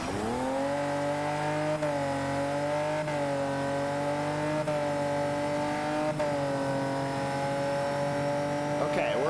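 A race car engine in a racing video game holds a steady, high-revving drone that ramps slightly in pitch, continuous and fairly loud with no speech over it.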